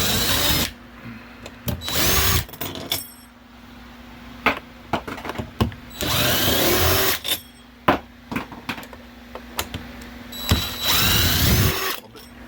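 Power drill backing out 8mm bolts from an RV air conditioner unit, in repeated loud whirring bursts of a second or two with ratcheting clicks and short pauses between runs.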